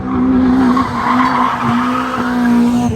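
A straight-piped Toyota Carina with stiffened suspension slides sideways on full opposite lock, its tyres screeching loudly and continuously over a droning engine note.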